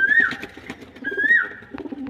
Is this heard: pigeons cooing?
yes